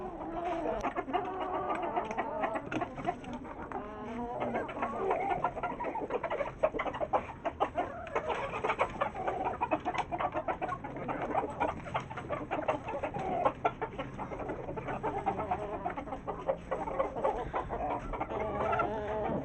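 Aseel chickens cluck steadily and densely as a flock is fed spinach by hand, many birds calling over one another at close range for the whole stretch, with no talk.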